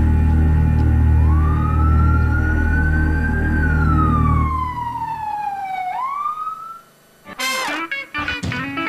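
A loud siren wails, its pitch slowly rising and falling over a low engine rumble, then fades into scattered bursts of noise.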